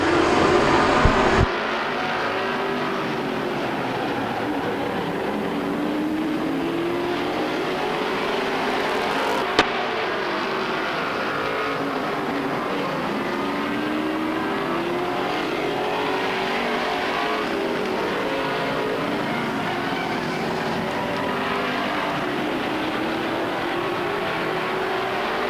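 Race cars at Stockton 99 speedway roar past continuously over a long stretch, with layered engine drones rising and falling as the pack circulates, loud and steady with brief sharp noises near the start.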